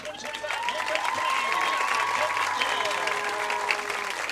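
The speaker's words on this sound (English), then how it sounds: "how about a big round of applause for the 2025 Homecoming" A crowd in the stands applauds the 2025 Homecoming Queen at a high school football game between Leake Academy and Oak Hill Academy, broad sustained clapping with scattered cheers and tonal sounds drifting through the mix.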